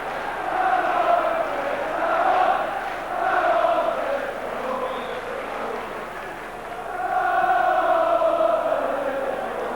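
Crowd noise at the Crystal Palace v Blackburn Rovers play-off final, a steady distant roar of a stadium crowd swelling and easing in waves, with no clear voices standing out.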